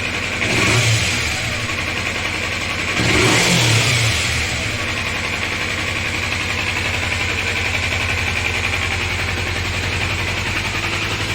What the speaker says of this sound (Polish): motocykl jak widzicie bardzo ładnie odpala trzyma obroty, ładnie schodzi z obrotów